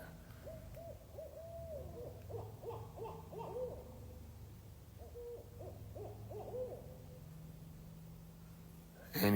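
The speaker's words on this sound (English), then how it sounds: "We got some big owls in the back." Several big owls hoot in repeated low, wavering calls, two clear bursts of hooting over a steady outdoor rumble, with a brief loud knock at the very end.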